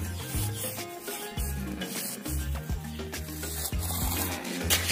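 A metal screw scraping through a cement block, slicing it like cake: repeated rough rasping strokes with low grinding scrapes, close and alone without talk.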